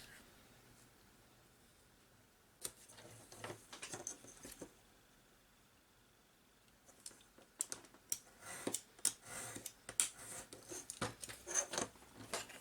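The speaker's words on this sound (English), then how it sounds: "I'm just going to cut this down to" Scissors or a blade cutting a piece of card down to size for a hole-punch template for a ring-bound journal, giving faint, close snips and crisp clicking in two bursts with a quiet pause between.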